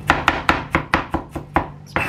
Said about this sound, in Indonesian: Terus kita iris kecil-kecil seperti ini.